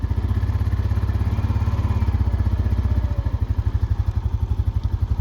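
Engine of a 2023 Honda Rancher ES ATV idling close by while it shifts gears, a steady thumping putter that turns choppier and more pulsing partway through.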